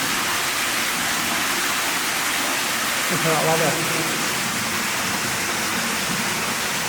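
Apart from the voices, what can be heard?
water flowing underground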